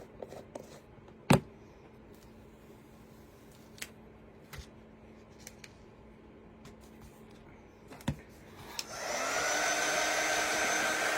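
A few scattered light taps and clicks while chalk paste is applied to a tiered tray insert, then a hair dryer switches on near the end and blows a steady, loud whoosh to dry it.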